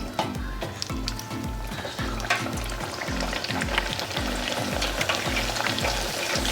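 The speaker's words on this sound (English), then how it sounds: "Sizzle, you guys, look at that sizzle." Chicken flautas fry in hot oil in a pan, giving a steady, close sizzle full of crackles and pops with no talking.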